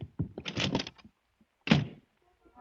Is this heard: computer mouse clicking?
no